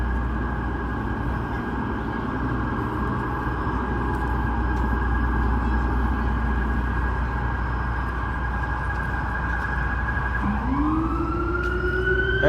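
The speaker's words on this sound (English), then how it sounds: "And more sirens, there you go." A siren wails steadily through loud New York City traffic rumble near the World Trade Center, then a second siren rises sharply near the end.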